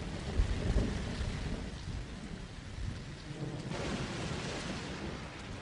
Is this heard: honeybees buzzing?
no